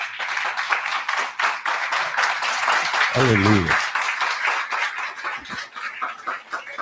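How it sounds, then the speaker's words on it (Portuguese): A church congregation at a Sunday morning family service bursts into sustained, dense clapping that runs steadily throughout, while a voice calls out briefly over the applause. "Dê um aplauso a Jesus."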